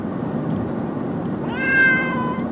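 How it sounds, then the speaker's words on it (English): A pet cat meows insistently inside a car during a drive, a drawn-out, rising cry heard clearly over a steady low road rumble. "my cat is being really annoying"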